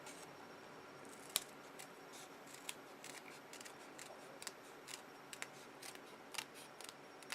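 Scissors trim patterned paper for an owl treat box with a steady run of quiet, crisp snips. Sharp clicks stand out now and then, close up with no talk.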